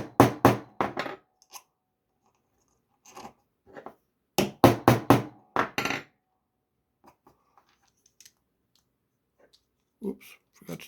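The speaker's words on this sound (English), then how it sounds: "Use my little brass hammer." Small brass hammer tapping on a 3D-printed RC forklift part: sharp bursts of close, metallic taps in quick clusters of four to five, pausing between groups, with a few lighter scattered knocks later.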